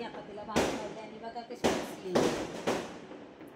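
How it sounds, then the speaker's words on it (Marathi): Diwali firecrackers burst outside in four sharp, loud bangs spaced about a second apart, each with a short rumbling tail, while someone speaks indoors between the blasts. "बाहेर अजून फटाके फोडण्याचं चाललेलंच आहे."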